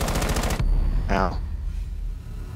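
Rapid automatic gunfire from Rainbow Six Siege rattles close and loud for about half a second, then cuts off, followed by a brief spoken exclamation over faint game ambience.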